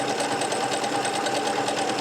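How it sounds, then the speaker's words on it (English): A Pfaff Quilt Ambition 630 sewing machine runs steadily, stitching a feather stitch on a single layer of fabric without stabilizer, its rapid even whir close and continuous for the whole stretch. "So let's start sewing that a little bit here without the stabilizer"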